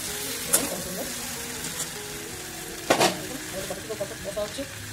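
Cauliflower and spinach curry with white sesame sautéing in a pan: a steady close sizzle with stirring scrapes and a sharper clatter near the middle.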